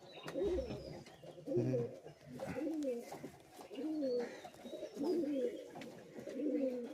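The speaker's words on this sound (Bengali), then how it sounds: "খুবই ছোট সাইজ পায়রা।" A very small Madraji pigeon coos close by in repeated soft rolling phrases about once a second, with faint background sounds between.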